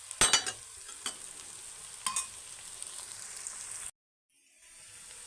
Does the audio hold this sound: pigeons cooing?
no